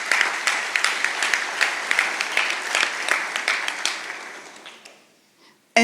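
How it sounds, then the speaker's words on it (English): A round of applause for teachers at an electric cooperative's annual meeting, steady dense clapping with sharp individual claps standing out, fading out near the end. "let's give all them a round of applause"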